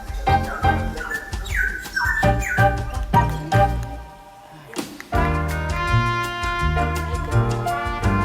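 A pet songbird kept in a cage at home trills and chirps in quick bright bursts, close and loud, with a dense run of repeated calls, a brief lull, then a fuller continuous stretch of song.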